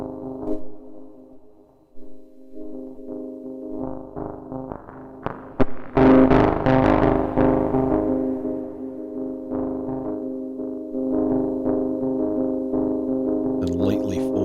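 Sine waves are lightly wavefolded on a modular synthesizer, giving a sustained buzzy multi-tone drone that grows brighter and more harmonically rich with gritty swells, loud and up front, with some speech mixed in.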